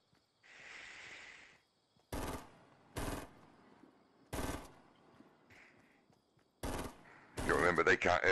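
Gunfire in a shooter video game, sharp isolated shots spaced a second or so apart, ending in a rapid burst of fire, over a faint background hum.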